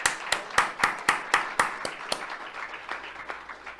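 A single person claps about a dozen times in a steady rhythm, close and fairly clear, slowing and fading toward the end.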